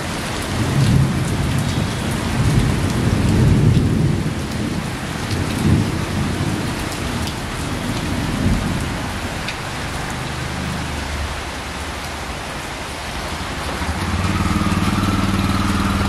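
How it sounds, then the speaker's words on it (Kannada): Heavy rain pours steadily in Chikkamagaluru, a dense, loud wash of drops hitting surfaces, with deep thunder rumbling and rolling underneath through the first half and swelling again near the end. "2 ಗಂಟೆಗೂ ಹೆಚ್ಚು ಕಾಲ ಉತ್ತಮ ಮಳೆಯಾಗಿದ್ದು"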